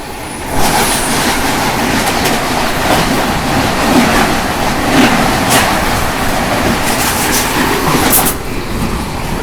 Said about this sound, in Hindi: 130 फ्लैट अपनी ट्रेन चल रही है